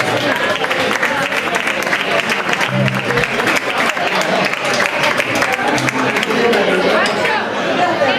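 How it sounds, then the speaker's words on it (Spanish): Pub audience at a folk group's concert giving loud, sustained applause, dense clapping with chatter and a few voices mixed in. "yo creo que le podemos dar un fuerte aplauso al recanto, ¿no?"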